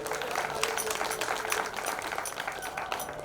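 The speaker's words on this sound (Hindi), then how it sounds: "एक बार जोरदार तालियां संगठन के लिए भी बजाइए।" An audience at a national convention of the Akhil Bharatiya Maa Narmada Parikrama Seva Sangh claps in a dense, steady burst of applause that holds at an even level throughout.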